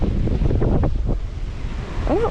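Strong wind gusts roar across a microphone on a windy Alaskan shoreline at Yakutania Point in Skagway, a loud, steady rumble with surf-like surges throughout and a brief tonal whistle near the end.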